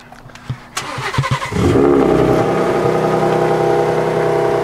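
A Ford Raptor R pickup's V6 engine cold-starts: starter cranks briefly, then the engine catches with a loud, steady high idle that holds on, close and without talk.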